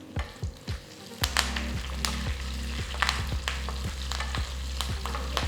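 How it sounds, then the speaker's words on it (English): Cumin seeds, sesame seeds and slit green chillies tempering in hot oil for farali sama dhokla, giving a steady sizzle with crackling pops and occasional stirring, close and fairly loud with no talking. "Once the oil is heated, add 1 teaspoon of cumin seeds, about 2 teaspoons of sesame seeds, 3 to 4 green chilli slit"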